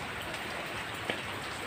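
Steady rain falls on and around a Mitsubishi L300 van being washed outdoors, a constant hiss of drops with one brief sharper splash near the end, with no voices.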